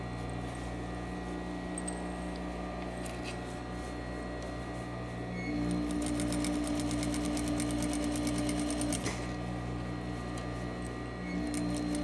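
Sewing machine stitching a waistband, running steadily at close range with a rapid continuous whir, its speed rising partway through before pausing and resuming near the end.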